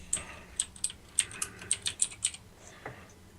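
Fingers tap on a computer keyboard, about ten crisp, close key clicks in an uneven rhythm over a quiet background, then a pause and one last isolated click.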